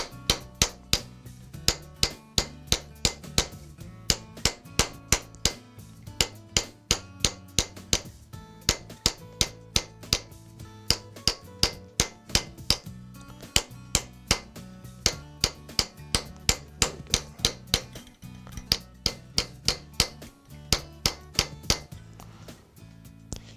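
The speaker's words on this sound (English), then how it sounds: "we're going to go back and work those down so the piece is as smooth as we can make it with this hammer" A hammer strikes a metal concave bracelet on a curved stake in steady, sharp metallic blows, dozens of evenly paced ringing taps close up and unbroken by talk.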